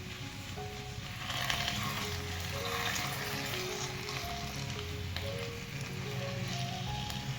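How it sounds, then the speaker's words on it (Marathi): Sweet potato slices with melting jaggery sauté on a low flame, giving a steady close sizzle and soft bubbling that continues evenly throughout, with occasional light spoon scrapes against the pan. "गूळ घालून बारीक गॅसवरती याला परत अजून परतून घ्यायचं आपल्याला"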